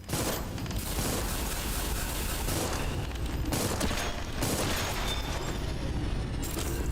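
Rapid gunfire from shooting an enemy in the video game Dolls Nest, dense bursts of booming shots and mechanical clatter, loud and close, continuing in waves.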